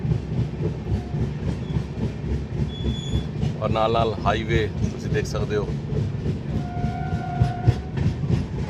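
A moving passenger train travelling from Jalandhar toward Nanded rumbles steadily with a low rolling drone and wheel clatter, heard from inside a carriage, while someone talks over it partway through.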